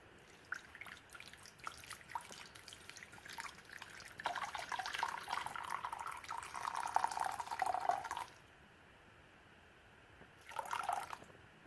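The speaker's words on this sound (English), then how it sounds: "So I'm going to add this holy water to my herbal mixture." Holy water is poured from a bottle into a bowl of herbal mixture, a quiet close trickle and splash that swells for several seconds, pauses, then returns briefly.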